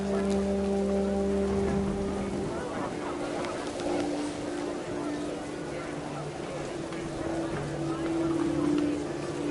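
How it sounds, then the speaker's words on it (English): Heavy rain in the video game What Remains of Edith Finch, a dense continuous hiss of falling water with low tonal hums and brief honk-like tones early on. "Rain came down in buckets then,"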